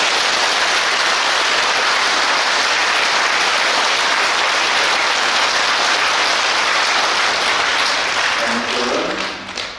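A Catholic church congregation at a Christmas Eve Mass gives sustained applause, a loud dense wash of clapping like heavy rain that fills the space and fades slightly at the very end.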